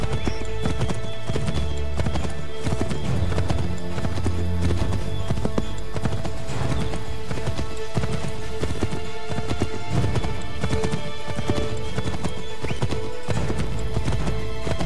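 A horse gallops in Assassin's Creed 3, fast continuous hoofbeats with occasional neighs and whinnies over dense game sound, loud and close throughout.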